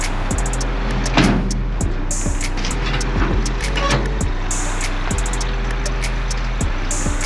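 A Ford Bronco First Edition idles and creeps onto a trailer, its low steady engine rumble close by, with regular faint clicking ticks and small knocks over it.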